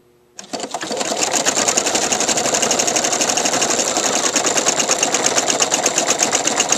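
An embroidery machine monograms an apron, starting abruptly and then running a fast, steady, even stitching rhythm, close and clear with no talking.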